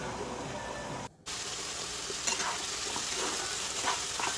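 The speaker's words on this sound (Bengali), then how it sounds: "মাছ ভাজা হবে।" Fish frying in a pan of hot oil, giving a steady, close sizzle that cuts out briefly for a moment and then resumes with scattered pops and crackles.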